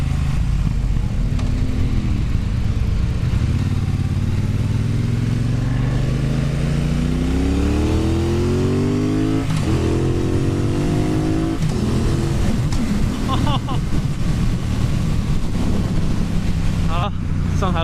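A Triumph Bonneville Bobber motorcycle engine roars up close and revs repeatedly as the rider downshifts, its pitch climbing and falling through the gears over strong wind rush, with brief talk.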